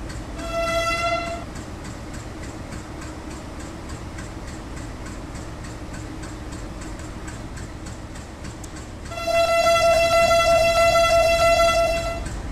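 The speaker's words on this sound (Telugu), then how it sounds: "ఓకే మన ట్రైన్ అయితే బయలుదేరి కదిలింది భయ్యా, వందే భావ ముందుకెళ్తా." A Vande Bharat Express train departing in Train Simulator Classic, with a steady electric hum and rhythmic ticking, and loud tonal horn blasts at the start and again near the end.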